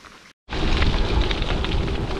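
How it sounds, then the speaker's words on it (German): Rain falls steadily in western Ireland, a dense hiss that comes in loudly after a brief cut and holds continuous and close, with a low windy rumble underneath. "Es regnet schon wieder."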